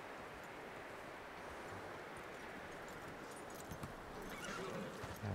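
Horse hooves clip-clop in the Red Dead Redemption 2 video game, a faint steady patter under strong wind noise, with a few louder steps toward the end.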